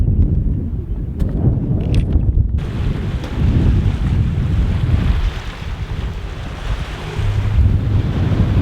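A force 4 wind buffets the microphone aboard a sailboat off the Outer Hebrides, with loud, steady gusting roar over the continuous rush of waves and surf.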